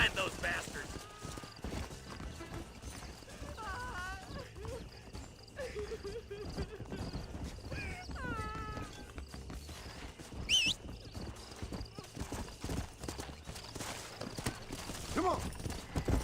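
Horse hooves galloping in the video game Red Dead Redemption, a rapid rhythmic clip-clop running throughout with occasional neighs and whinnies, while people talk over the game.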